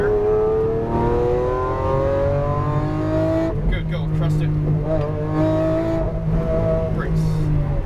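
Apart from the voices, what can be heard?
Lamborghini Aventador accelerating on a race track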